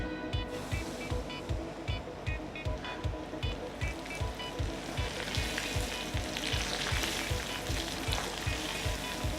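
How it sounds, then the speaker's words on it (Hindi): Okra (bhindi) frying in hot oil in small batches, a loud, steady close sizzle with rhythmic bubbling pulses throughout. "अब हम थोड़ी थोड़ी करके सारी भिंडी फ्राई कर लेंगे।"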